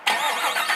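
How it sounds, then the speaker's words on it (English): A 2020 Chevrolet Camaro LT1 V8 fires up with a sudden loud crank-and-catch, settling straight into a throaty, rumbling engine note that holds steady through the short moment. "That 8-cylinder roars to life."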